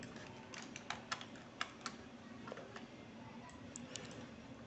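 Light, scattered keystrokes on a computer keyboard, irregular clicks and taps at a moderate distance against a quiet room hum, with no voices.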